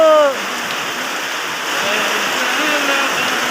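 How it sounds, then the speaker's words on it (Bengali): Heavy monsoon rain pours down in a dense, steady roar that swells slightly partway through, with a brief voice-like tone at the very start before the downpour continues alone. "কি বৃষ্টি নেমেছে বাড়িঘর সব তলায় গেল"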